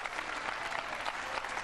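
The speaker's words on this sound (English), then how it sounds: "Crowd cheering on this Davis comeback." A crowd at the 2000 World 9-ball pool championship applauds and cheers in a dense, steady roar that holds throughout.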